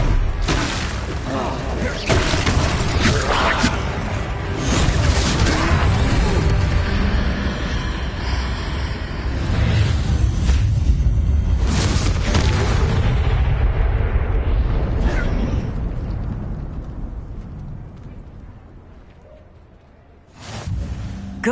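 Repeated Confringo fire-spell blasts in Hogwarts Legacy during a troll fight, a dense run of loud booming explosions and bursts lasting nearly the whole stretch, thinning out toward the end before one more hit, with game voices mixed in.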